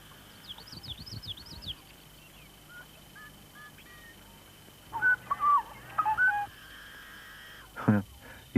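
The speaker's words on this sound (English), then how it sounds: "A yellow-headed blackbird." A yellow-headed blackbird calls from reeds, giving several harsh, squeaky, buzzing outbursts in quick bursts, loud and close, with other faint bird chatter beforehand.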